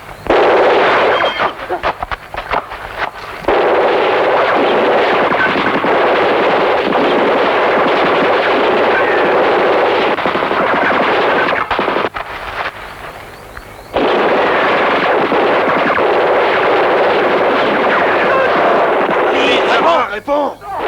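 Gunfire and artillery volley in a gunfight, dense rapid shots and heavy booms rolling continuously and loudly for about twenty seconds, with brief lulls and shouting voices mixed in.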